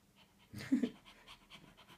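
A person imitating a panting dog, a brief burst of quick breathy huffs near the mic, softening into a few fainter pants afterward.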